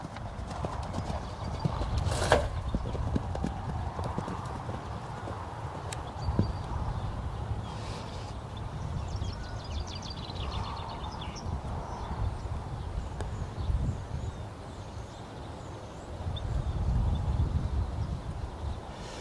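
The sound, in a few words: young horse hooves during first jumping session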